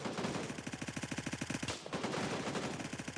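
Rapid automatic gunfire emptying a magazine in the shooter game Gray Zone Warfare, a fast even burst of shots, a brief pause, then another sustained burst, loud and close.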